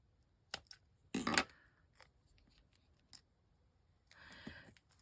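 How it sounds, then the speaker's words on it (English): Scissors snip paper in a handful of crisp, separate cuts, one quick run of close snips near the start and a longer rasping cut toward the end, with quiet gaps between. "Using the wrong scissors"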